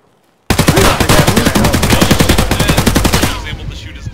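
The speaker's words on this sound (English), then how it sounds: "He was able to shoot his gun, finally." A video game gun fires a long, loud, rapid automatic burst of evenly spaced shots that starts abruptly and runs about three seconds before tailing off into echo.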